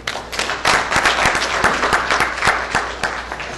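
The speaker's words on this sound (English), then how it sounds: "Let's give them a round of applause." Audience applause at a Nigerian community banquet and dance, a dense, loud burst of many hands clapping close by, sustained evenly for several seconds with no speech.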